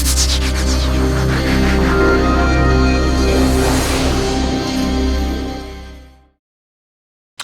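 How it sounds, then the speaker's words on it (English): Renault Scenic E-TECH in Esprit Alpine trim plays its welcome chime composed by Jean-Michel Jarre, a loud, rich layered electronic swell that builds, peaks midway and fades out, followed by a brief click at the end. "the first thing you'll notice is the welcome sound, which has been orchestrated by Jean-Michel Jarre."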